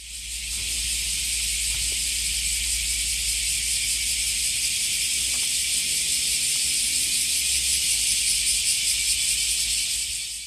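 Dense, continuous high-pitched buzzing of cicadas in trees in summertime Japan fills the air, loud and unbroken, with a faint low hum beneath and no voices.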